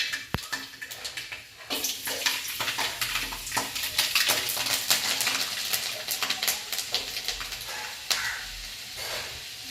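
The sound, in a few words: garlic frying in oil in a pan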